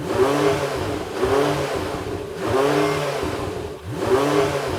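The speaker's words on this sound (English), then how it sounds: "revving up the naturally aspirated V8 in the Porsche" A naturally aspirated Porsche V8 revs in repeated bursts, each rising and falling, loud and near with a rhythmic pattern of roughly four pulls.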